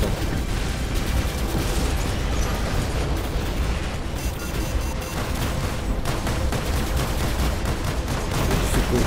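Robot weapons fire in the PC mech combat game War Robots: a dense, continuous barrage of overlapping gunshots and explosive bursts, loud and steady without pause.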